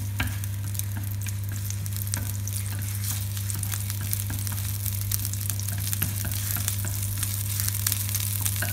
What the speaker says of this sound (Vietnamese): Và chúng ta tiến hành chúng ta xào cùng với mì và trứng luôn.